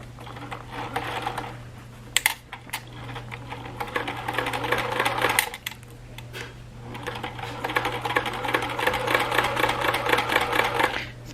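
A sewing machine stitches across a fabric bag for a wheelchair or walker in two close bursts of rapid clattering, with a short pause between them over a low steady motor hum.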